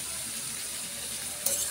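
Dried fish, onion, green chilli and garlic sizzle steadily in hot oil, a dense, even hiss that stays level throughout with a slight burst near the end.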